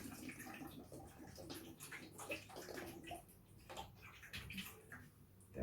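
Water is poured from a jug onto a plant saucer to water a potted cyclamen, a faint continuous splashing trickle with small gurgles, close and quiet.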